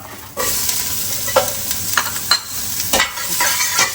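Hot oil sizzling as beef stew pieces brown in a pan, a continuous close crackle with scattered sharper pops and stirring clicks, no voices.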